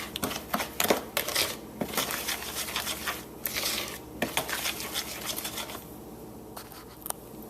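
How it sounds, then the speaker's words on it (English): A spoon stirs toaster-oven brownie batter of flour, salt and unsweetened cocoa in a bowl, giving close, irregular scraping and knocking strokes that run continuously. "Mixing well."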